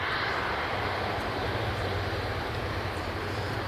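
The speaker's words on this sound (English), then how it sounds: "so many wheels on such a small plane" Small plane with many wheels at Manchester Airport, a loud continuous roar of aircraft engines with a broad, steady rushing noise, close and unbroken throughout.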